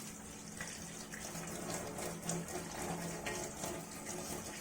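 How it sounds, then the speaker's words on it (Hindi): Steady running water, like a tap flowing, with faint brushing as a Rotimatic roti-maker part is scrubbed clean under the stream in a home kitchen; a continuous wash with no talking. "इस ब्रश से मैं क्लीन कर दूँगी"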